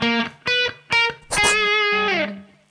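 An electric guitar plays a short syncopated Dorian fusion lick, a few clipped staccato notes on the offbeat followed by a longer sustained bend, clear and close with light effects.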